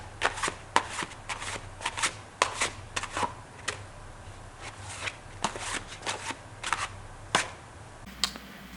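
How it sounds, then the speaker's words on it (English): A deck of playing cards is worked through a slow overhand shuffle, producing a string of crisp, close riffling snaps and soft taps at an uneven, unhurried pace, with no voice over them. "let me demonstrate this shuffle again for you again in slow motion"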